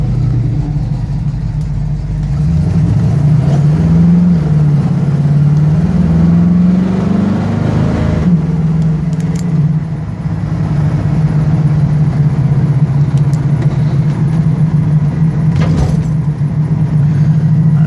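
A 1969 Pontiac Firebird with a 400 engine and Turbo 400 three-speed automatic transmission, driving: a steady low engine drone from inside the car, rising briefly as it revs, then settling into an even cruise with no talk.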